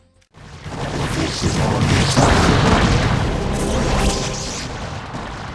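Massive booming explosion as an overloaded pylon cluster's charges detonate in StarCraft, a sudden loud blast after a brief silence that rumbles on for several seconds before slowly fading.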